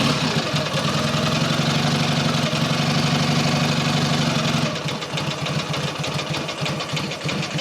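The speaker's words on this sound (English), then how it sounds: "Tick over is always a bit slow when they're cold, so we'll speed it up a little bit." A cold Matchless G11 motorcycle engine idles loudly and steadily, its slow, even tick-over turning into a faster, more ragged beat partway through as the revs are raised.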